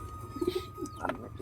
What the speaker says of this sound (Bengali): দেখতেই পাচ্ছ খাচ্ছে পায়রাগুলো।